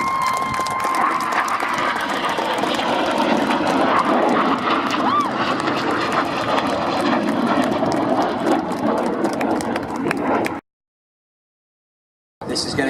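Synchro pair display jets flying at the Biggin Hill airshow, a loud sustained roar of jet engines passing close overhead for about ten seconds, then a sudden cut to silence before the noise briefly returns.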